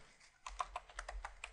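Quick, quiet keystrokes on a computer keyboard, about a dozen light clicks in an uneven rhythm while code is entered in Visual Studio.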